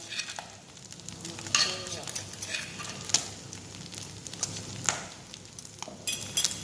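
Minced catfish is stir-roasted with chili, lemongrass and kaffir lime leaves. A steady close sizzle sounds beneath repeated scraping and stirring strokes of a utensil against the pan.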